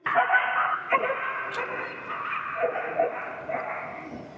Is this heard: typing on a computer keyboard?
no